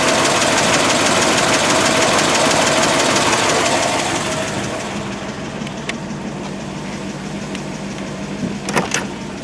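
A 1955 Buick Century engine idles steadily while parked with its rebuilt cooling system, a continuous broadband rumble that softens partway through and stays even, with a few faint clicks near the end.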